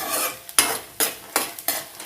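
Onions being fried and stirred in a pan for a murmuralu puffed-rice snack, heard as four or five sharp bursts of sizzling and spatula scraping in a quick uneven rhythm, close and without any talking.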